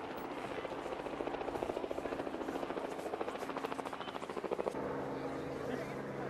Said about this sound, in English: Helicopter in the background.